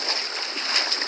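Swimmer splashing in icy water of the Sea of Okhotsk near Magadan in early August, a brief, steady close-up wash of splashes and sloshing with no voices.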